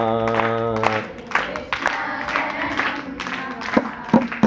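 An audience at a devotional gathering claps along to a Sri Krishna chant, a run of sharp hand claps in an uneven beat mixed with singing voices.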